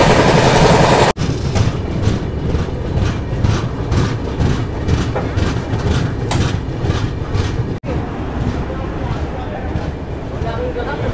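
Inside the Patalkot Express as it runs on the rails, a loud continuous rumble with rhythmic clickety-clack beats and a couple of brief cut-outs, with no one talking.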